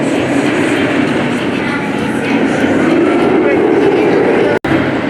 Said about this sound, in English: This is a kid-sized train.